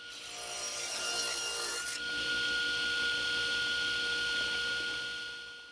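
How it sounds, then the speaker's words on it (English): A saw cuts through wood in steady rasping strokes, close and continuous, getting slightly brighter and fuller after a brief pause partway through, with no talking. "it gives you a little bit more control when your saw isn't bogging down in the middle of your cut"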